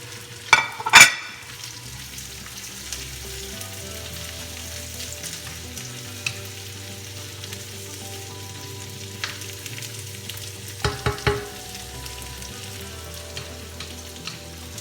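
Carrots sauté in a pan over medium-high heat with a continuous close sizzle, punctuated by a few sharp clatters of stirring near the start and again later.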